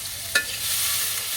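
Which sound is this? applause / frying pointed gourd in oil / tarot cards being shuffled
frying pointed gourd in oil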